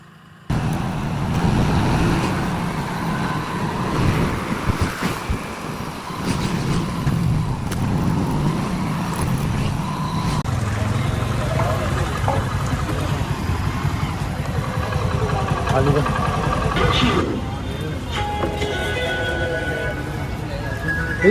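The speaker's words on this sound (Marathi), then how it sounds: "आता सध्या आपण बाईकवरती एका हाताने बाईक चालवत, तिला घ्यायला चाललोय" Motorcycle ridden along a road with one hand on the handlebar, continuous engine drone and road noise with wind, under steady conversation between riders.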